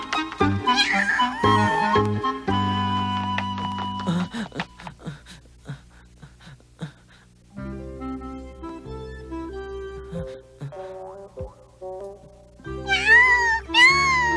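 Several loud, close cat meows, some drawn out and wavering, come in bursts with short pauses between them, and a high pitched whining cry near the end.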